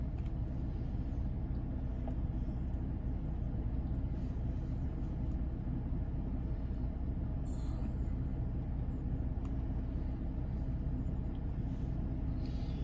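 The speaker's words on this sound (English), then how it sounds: "I don't know if y'all can hear a vibrating. I got the car running." A car engine idles close by, a steady low rumble with a constant vibrating drone and wind noise over it, running unbroken throughout with no talking.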